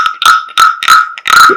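A wooden frog rasp is scraped in four or five quick, rhythmic strokes, each a loud croaking rattle with a ringing edge.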